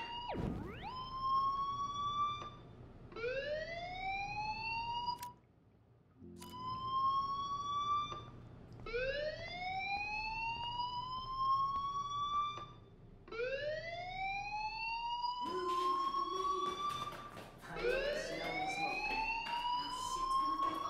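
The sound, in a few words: fire alarm ringing in a video game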